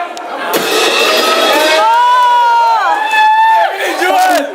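A concert crowd at a convention cheers and shouts for the drummer, loud and close, with whoops and a wavering voice over the noise.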